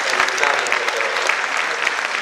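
Steady, dense audience applause fills a Romanian televised charity evening, a large crowd clapping loudly and continuously from start to finish without pause.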